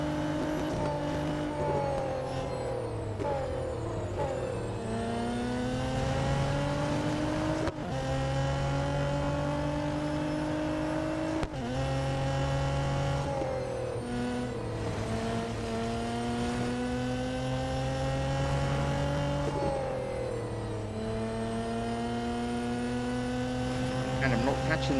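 Race cars from the video game Real Racing 3 drone and whine continuously, engine tones rising and falling through gear changes, loud and steady throughout with a commentator speaking over the engines.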